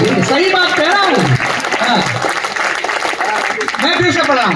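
An audience at a Hindi poetry recital applauds as a poet speaks over the clapping, a broad steady wash of hand claps that holds for several seconds.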